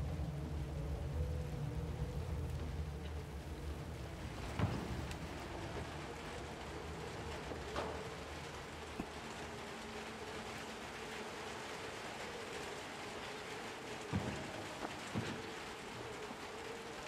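TV static hissing in Little Nightmares 2, a steady, faint, broad wash of noise with a low rumble beneath and a few soft thumps, no talking.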